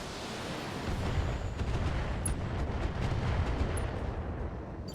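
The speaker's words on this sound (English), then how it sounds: "Who says mech mortars can't be effective in the late game?" Mech mortar fire in the video game BattleTech, a continuous loud roar of heavy blasts and rumbling explosions with deep low-end weight, steady throughout and without talk.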